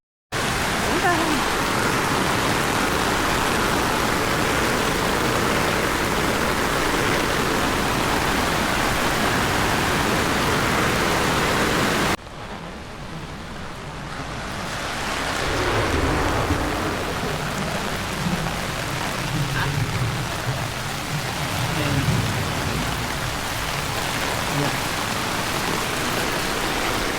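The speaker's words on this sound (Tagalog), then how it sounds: "Ulan." Steady broadband rain pours down at a resort in San Narciso, Quezon, a dense hiss that cuts off and gives way to quieter, uneven patter with faint voices talking beneath it.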